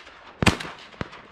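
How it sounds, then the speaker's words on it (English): Shotgun fired during public-land duck hunting at San Jacinto, Southern California: one sharp outdoor blast followed by a fainter second report, both brief against quiet marshland air. "Nice shot, Webby."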